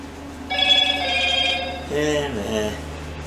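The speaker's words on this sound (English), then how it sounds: "And there's a text message for me." A phone's text-message alert rings in a workshop, a bright sustained electronic tone followed by a shorter warbling chime, fairly close and clear with no talk over it.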